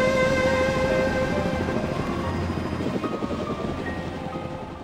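A helicopter in the video game Shenmue drones with a whirring rotor and engine hum, loud at first and then fading gradually as it flies away.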